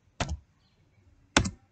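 Two separate clicky keystrokes on a computer keyboard while typing into an Excel cell, each a short sharp tap about a second apart, close and alone in a quiet room.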